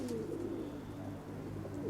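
Soft, low cooing of pigeons in a loft, continuous and murmuring, at moderate distance with faint background noise.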